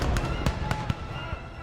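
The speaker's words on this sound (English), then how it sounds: "the sounds of wounded and dying men are only covered by the constant cannon and volley fire" Cannon and musket volley fire on a 1777 Revolutionary War battlefield at Saratoga, Freeman's Farm, heard as a steady low rumble with several sharp cracking reports spread across the span, mixed under a voice.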